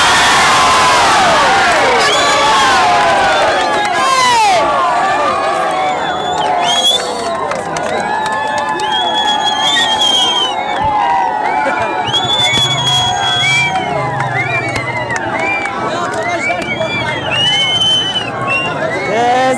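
A large crowd cheers and shouts loudly and continuously for the winner of a traditional pahlavani wrestling match at an Eid event, with dense overlapping voices and whistles throughout.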